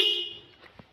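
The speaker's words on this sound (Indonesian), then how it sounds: "inilah suara aslinya klakson Denso" A single bright Denso car horn blast, as fitted to a Toyota Fortuner or Innova, sounding from a Honda Supra X 125 R motorcycle, loud and close, fading out within a second.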